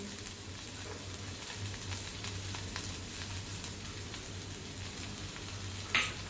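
Okra sizzles steadily in a hot pan with salt and garlic, a soft continuous frying crackle heard close and alone, with faint stirring scrapes and one small clink near the end.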